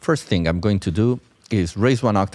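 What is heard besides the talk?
None of the usual background noises is heard.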